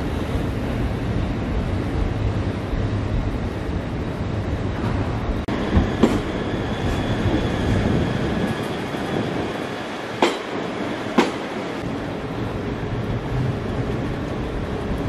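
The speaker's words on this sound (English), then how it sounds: "And there goes the Azuma! Yeah, what a lovely train." An LNER Azuma train passes through Glasgow Central station on a rainy day, with a steady rolling rumble, wheel noise and a few sharp clicks and squeals.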